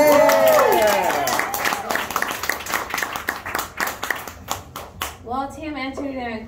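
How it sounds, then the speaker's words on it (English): Scattered audience clapping at a Tampa poetry event: sharp, uneven claps that thin out over several seconds, mixed with some cheering and voices, before a person starts talking near the end. "Just an extra round of applause if you really fucking needed that tonight."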